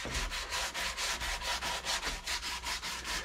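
Sandpaper rubs back and forth over the wooden neck of an electric guitar, a loud rhythmic rasping with about a dozen even strokes in quick succession and no voices.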